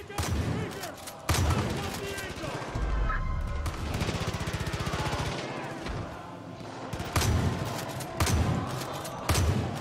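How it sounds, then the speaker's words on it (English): Gunfire in Far Cry 5 as a player shoots at loudspeakers blaring music, loud bursts and shots recurring across the scene amid a dense mix of game sound and music, with voices talking over it. "I'm shooting speakers too."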